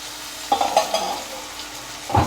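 Onions fry in a pan with a soft background sizzle, broken by several brief spatula scrapes and clinks in quick succession near the start and once more at the end.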